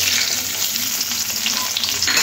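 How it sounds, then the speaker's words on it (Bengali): Onion petals fry in hot oil left over from frying katla fish, giving a loud, steady, close crackling sizzle with faint stirring and no talking. "এবারে এই মাছ ভাজা তেলের মধ্যে দিয়ে দেবো পেঁয়াজের পাপড়িগুলো"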